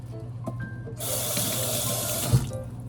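Celery being washed under a running kitchen tap, with a steady gush of water that starts abruptly, runs for about a second and a half, and then cuts off, close and clear, with no talk.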